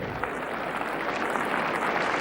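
Steady, dense applause from the crowd at a 1977 Wimbledon tennis semi-final, Borg against Gerulaitis, a continuous wash of many hands clapping at moderate volume without breaks.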